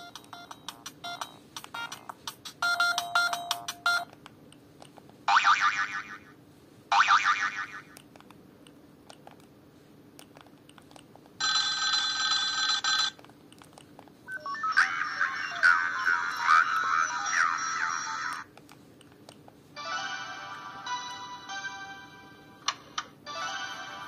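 A Siemens C72 mobile phone plays several ringtone melodies one after another, bright electronic tunes in separate bursts of a few seconds each, with short quiet gaps and soft key clicks between them.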